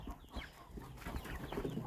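Chickens clucking softly nearby, a few short murmuring calls over faint background rustle, fairly quiet.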